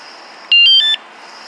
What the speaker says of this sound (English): On the side here it's got an alarm.